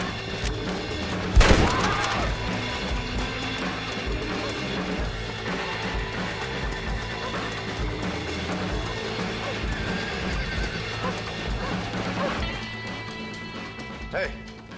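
In the video game Red Dead Redemption, a horse gives a sharp whinny near the start, then hooves clip-clop steadily amid a busy background of game sounds, with a scattered crash and thwacks along the way.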